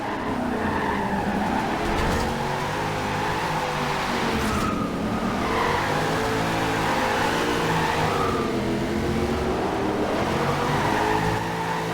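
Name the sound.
1997 Land Rover Defender 90 drifting, tires spinning and skidding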